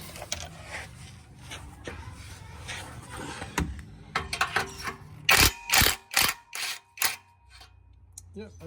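An off-brand Makita-style cordless power tool with a 17 socket works the exhaust V-band clamp on a Hyundai Getz. After some talk and faint clicks come four or five loud, close ratcheting bursts in quick succession.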